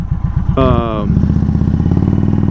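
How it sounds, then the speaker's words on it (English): An Indian motorcycle switched into sport mode accelerates hard, its loud close engine rising in a steady throbbing roar with a brief whining tone partway through. "So we're gonna go into sport mode now."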